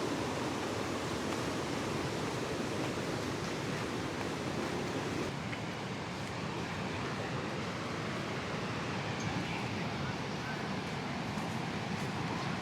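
Ocean waves wash continuously onto a beach at Red Island near Banyuwangi, a broad steady roar of surf, fairly distant and even, with no talk heard.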